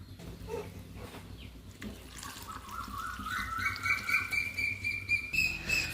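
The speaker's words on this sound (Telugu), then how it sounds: "ఈ టమాటాలను పచ్చిమిరపకాయలు ఇంకా అవైతే శుభ్రం కడిగేసుకొని" Tomatoes and green chillies are rinsed under a running kitchen tap, a steady splashing stream that grows louder and fuller midway, with the water pitch rising as it flows.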